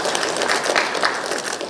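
An audience claps steadily in a dense, continuous patter of applause at a ceremony where officials exchange fisheries and aquaculture cooperation documents.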